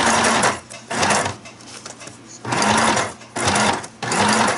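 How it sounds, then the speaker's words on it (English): A sewing machine used for paper crafts stitches in several short loud bursts, each a rapid mechanical whir, with brief pauses between runs. "I'm just going to sew this on here."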